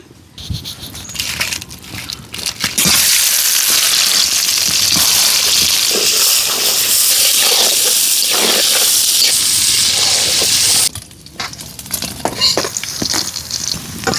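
Prawns sizzle loudly in hot oil for a coconut prawn bhuna, a dense steady frying hiss that swells in the middle and then falls back to a quieter crackle with a few clinks.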